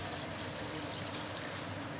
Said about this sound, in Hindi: पानी इसमें 2 गिलास डाल सकते हैं